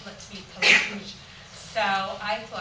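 A single sharp sneeze bursts out near the mic amid a man's casual storytelling, followed shortly by more speech.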